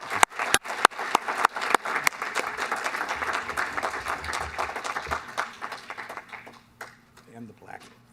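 Applause at a Truckee town council meeting for an award to Doug Croney of Tahoe Moving and Storage, a room of people clapping with loud individual claps at first, then dense clapping that fades out toward the end.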